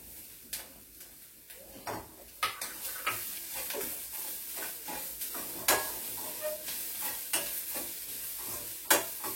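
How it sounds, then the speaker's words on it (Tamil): Carrots stir-fried in a pan for idiyappam mango uppuma produce a soft sizzle under repeated irregular scraping and tapping of a spoon against the pan, close and moderately quiet, with no speech. "கேரட் நல்லா ஒரு பரட்டணும்"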